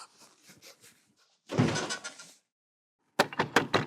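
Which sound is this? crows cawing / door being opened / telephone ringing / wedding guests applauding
door being opened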